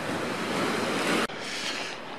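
Strong waves crash against a rocky Sea of Japan shore at Shiroshima Park in Kyoto, a loud, continuous roar of surf mixed with wind buffeting the microphone, with a brief dip before the rush resumes.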